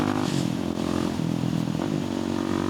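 A high-revving motorcycle engine, a bike said to reach about 20,000 RPM, screams steadily and loud for the whole stretch while riding alongside friends on a country road.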